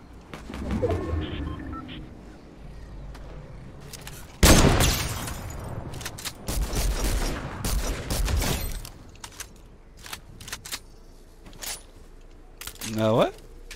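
Sniper rifle shots ring out in Fortnite, several loud sharp cracks with echoing tails clustered mid-stretch, among lighter scattered in-game clicks and effects.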